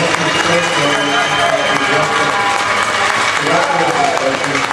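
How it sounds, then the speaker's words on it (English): Audience applause for player Aaron Dartch, steady dense clapping from a crowd throughout, mixed with crowd noise and some voices over it. "Please give Aaron Dartch a round of applause"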